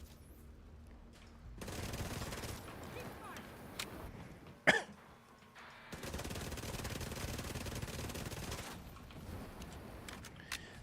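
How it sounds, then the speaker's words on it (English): Rapid bursts of gunfire in a third-person looter shooter game, two sustained stretches of automatic fire with a sharp single crack between them, moderately loud against a quieter background. "Stop shooting me."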